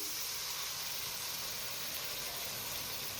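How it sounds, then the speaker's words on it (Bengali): Poppy seed paste for a spring onion poppy seed dish hisses and sizzles steadily as bowl-rinse water goes into the hot pan, a continuous close broadband hiss with no pauses. "এই যে পোস্তর বাটি ধোয়া জলটা আমি দিয়ে দিচ্ছি"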